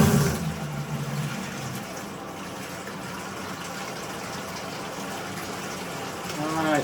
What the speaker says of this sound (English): Alright, we're filling up the bucket.